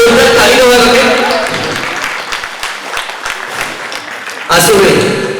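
Audience applause at a stage drama performance rises as a loud burst of clapping, then tapers to scattered claps before a voice cuts in near the end.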